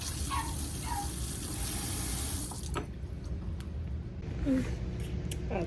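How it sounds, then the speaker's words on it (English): Cool tap water runs steadily from a faucet during a first aid simulation for flushing a burn; the continuous splashing flow stays close and fairly loud with no talk over it. "I am going to turn on some water, some cool water"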